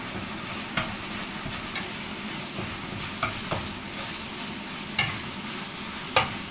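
Beef for cottage pie fries in a pan as the fat renders off, making a steady, close sizzle with occasional stirring scrapes and small pops, no voices.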